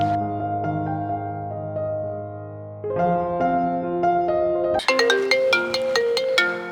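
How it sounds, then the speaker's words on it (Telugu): A mobile phone ringtone plays loud and alone for an incoming call from a mother, a clear melodic tune of sustained tones that shifts pitch partway and ends in brighter, bell-like repeated notes. "అమ్మ ఫోన్ చేస్తాంది"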